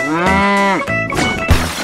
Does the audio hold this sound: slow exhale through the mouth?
no